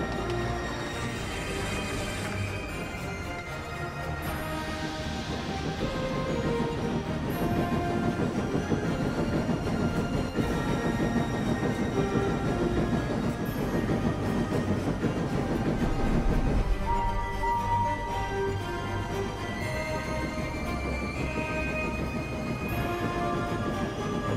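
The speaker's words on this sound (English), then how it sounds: "Henry thundered along the line and made up for lost time, and puffed away with the coaches" A train pulling coaches along the line, with a steady rolling rumble and rhythmic rail clatter that stays loud and continuous throughout, no talking.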